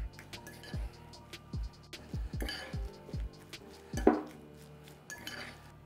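Spoon stirring grated tofu with mayo and sriracha in a bowl, giving repeated close clinks and scrapes against the bowl in an uneven rhythm, with one louder knock partway through.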